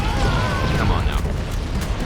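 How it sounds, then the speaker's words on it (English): Grenade blasts from Halo: Combat Evolved, a loud sustained rumbling boom bed with crackling debris, heard under game voices and a whistling tone sweeping across. "Too many grenades rolling around."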